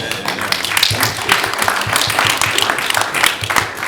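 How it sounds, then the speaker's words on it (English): A horror film Q&A audience claps for the creative team, loud, close and dense throughout the short stretch with individual hand claps standing out. "They do deserve a round of applause"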